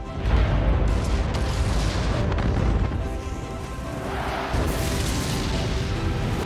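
A rumbling volcanic eruption effect for the Toba volcano on Sumatra, a loud continuous deep roar with heavy low booms and surging crackle, steady throughout with no voices.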